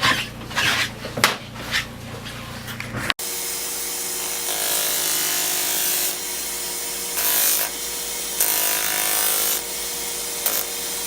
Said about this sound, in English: for these pieces that are sticking up, just sand it flat